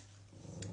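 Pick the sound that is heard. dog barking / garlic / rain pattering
dog barking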